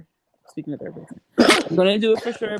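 A single sharp sneeze bursts out during a casual podcast conversation, coming right after a spoken phrase, with talking continuing around it.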